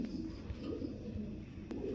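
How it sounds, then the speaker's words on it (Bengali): Giriel club pigeons coo softly in a low, murmuring rhythm, their faint calls blending into a steady background hum. "এখানে খুব সুন্দর এক জায়গায় গিরিজেল কবুতর আছে, ক্লাবের কবুতর।"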